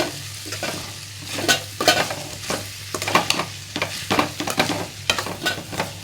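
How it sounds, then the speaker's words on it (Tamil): Chopped cabbage being sautéed in a pan, with a utensil stirring and scraping in irregular bursts over a soft sizzle, close and fairly loud with no voices. "எல்லாம் வாஷ் பண்ணி கட் பண்ணி வச்சு நம்ம ஒன்று ஒன்றா போட்டு வதக்குறோம்."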